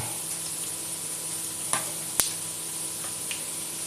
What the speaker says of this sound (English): I don't want to make everyone watch as me frying every other meatballs